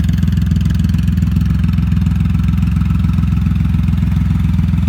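Triumph Rocket 3 Roadster motorcycle with an aftermarket exhaust idling up close, a loud, deep, even engine throb with a rapid steady pulse throughout, no voices.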